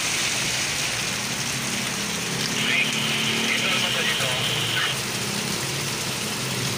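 A downpour drums steadily on a Tagaytay road, a thick continuous wash of noise with a passing vehicle faintly audible in the middle.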